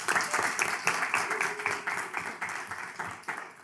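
Audience claps steadily for a few seconds in a meeting hall, a fairly faint, even patter of many hands.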